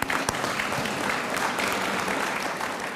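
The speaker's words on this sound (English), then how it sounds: "So let's give yourselves an applause for that." A crowd at the opening ceremony of the Kupferberg Holocaust Resource Center and Archives applauds in a continuous, even burst of many hands clapping together.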